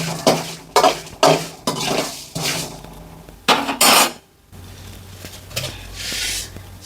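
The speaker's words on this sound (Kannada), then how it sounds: "ಚಟಪಟ ಚಟಪಟ ಅಂತ ಸೌಂಡ್ ಬರುತ್ತೆ ನೋಡಿ" Spices roasting in a pan for a sambar powder, heard up close as a run of clattering, crackling bursts and scraping stirs that give way to a quieter, fainter sizzle.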